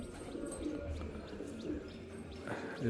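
A pair of pigeons kept at home, including a female carrying an egg, coo softly and intermittently nearby, with a faint chirp or two over low background noise.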